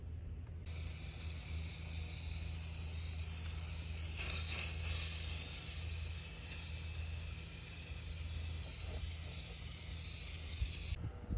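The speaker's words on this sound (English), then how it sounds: "I got to start spray painting." An aerosol spray paint can hissing outdoors in a garage area, a continuous steady spray lasting several seconds with a slight change in pressure midway and no talking.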